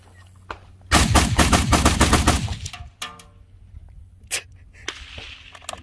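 Rapid burst of gunfire from a Hell Pup rifle fitted with a Fostech trigger, about a dozen sharp shots in under two seconds, followed by a few scattered single reports and echoes.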